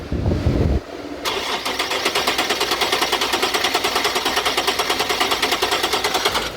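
A 2013 Nissan 370Z with 151k km cranks without catching: after a brief initial rumble, a steady rapid starter whir churns on for several seconds, close and loud, without the engine firing.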